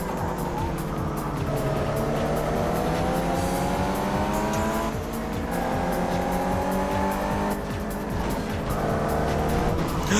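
A VW Beetle race car in the video game GTI Racing accelerates hard, its engine whining up through repeated gear climbs alongside other racing cars, loud and continuous with tire squeal and no clear talk.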